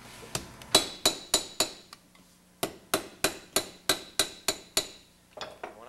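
Sharp metallic hammer blows flatten the seams of a sheet metal project, about a dozen evenly spaced ringing strikes close by, with a brief pause after the first few.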